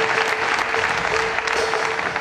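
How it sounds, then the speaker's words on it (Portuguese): A comedy roast audience gives Fernando Rocha a round of applause, loud continuous clapping from a crowd that holds steady throughout without speech. "Fernando Rocha, uma salva de palmas, por favor."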